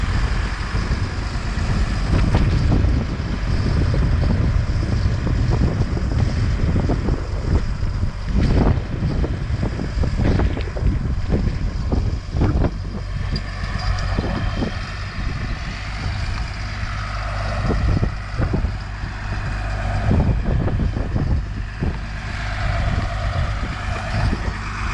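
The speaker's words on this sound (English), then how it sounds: "It's got a Deutsch 175 horsepower air-cooled engine in it." A Deutsch 175 horsepower air-cooled engine running steadily on farm machinery, a loud continuous low rumble mixed with wind buffeting on the microphone, no talking.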